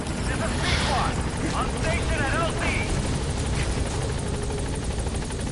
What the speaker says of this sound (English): Helicopter's almost here anyways.